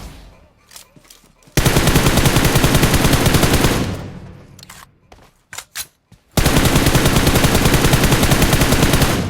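Automatic weapon fire in the mobile battle royale game BGMI (PUBG Mobile): two long, loud, rapid bursts of shots, with a few scattered single shots and short pops between them, and no talk over the firing.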